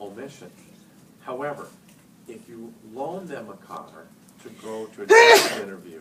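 Someone speaking steadily is interrupted near the end by a single loud, sharp sneeze that rises abruptly above his voice.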